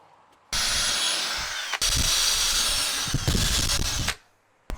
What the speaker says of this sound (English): I'm going to go ahead and drill them out to 8mm